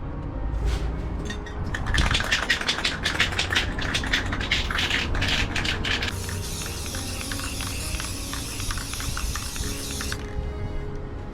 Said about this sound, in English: I'm prepared to give this a spray